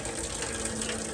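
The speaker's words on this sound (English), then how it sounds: "We're gonna take the antifreeze out." Antifreeze drains steadily from a 2014 Toyota Highlander during a water pump replacement. A continuous, even gush of liquid runs without a break, at moderate level.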